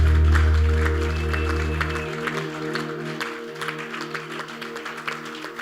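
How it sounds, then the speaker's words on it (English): A church congregation claps their hands in praise, a dense, fairly even patter of applause over sustained low organ or keyboard tones that fade after the first couple of seconds. "Can you clap your hands and give God praise?"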